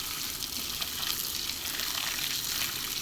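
Water pours steadily over potted garden plants such as chili and kangkong being watered, a continuous close hiss and splash lasting a few seconds with no talk.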